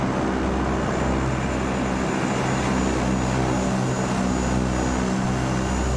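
Steady propeller drone of a Cessna 172's piston engine in Flight Simulator 2020, loud and continuous with a low throbbing hum and broadband roar throughout, no voices.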